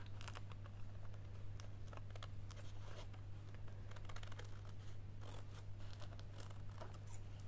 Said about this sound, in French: maintenant je vais découper la dentelle qui dépasse